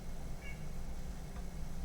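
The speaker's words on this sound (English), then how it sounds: "Cat was wanting to get in the room." A cat meows faintly from somewhere nearby, wanting to be let into a room, with two short, soft calls over a steady low background hum.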